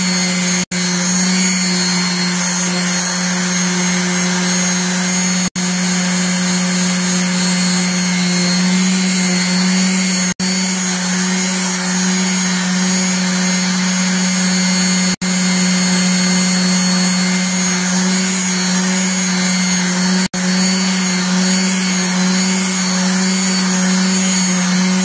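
Steel file, being made into a homemade PDR smoothing tool, sanded and polished with sandpaper: a loud, continuous machine-driven grinding hum with steady high rasping, unbroken for the whole stretch with no talk.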